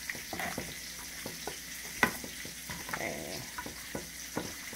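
Deep-fried ribs tossed in garlic and lemon pepper seasoning, a soft steady sizzle under repeated scraping and clacking strokes of the tossing, with one sharper knock, close and moderately quiet, no voices.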